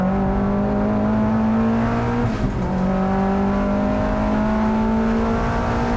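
Turbocharged Mazda MX-5 pulls hard on a race track, its engine note climbing steadily through the gears with a brief dip at a shift, loud and close with no talk.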